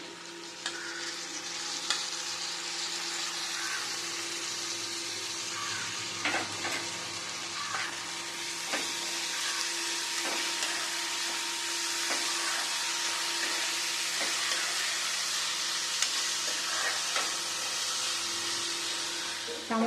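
Onions and tomato pieces sizzle in a pan for Andhra-style bitter gourd curry, giving a steady frying hiss with a few sharp crackles and stirring knocks for about twenty seconds, with no talking.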